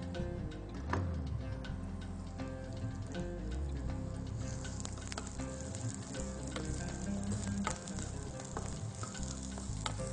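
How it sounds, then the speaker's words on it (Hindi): Close, continuous sizzle of garlic and onion frying in hot olive oil, with occasional light pops and ticks through the crackle. "लहसुन और प्याज को आप थोड़ा सा भूनेंगे।"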